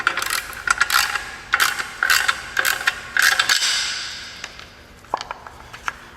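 A ratchet clicks in rapid repeated bursts while tightening the bolts that join the transmission to a 2001 GMC Sonoma's 2.2L engine, with short pauses between strokes, close and loud.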